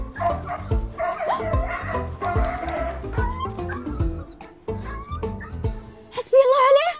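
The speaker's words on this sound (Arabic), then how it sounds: "شفتوا كيف يعذب الكلب؟" A dog barking and whimpering in a tense comedy scene, yelps and cries layered over loud music and busy background sound, with a sharp, louder burst near the end.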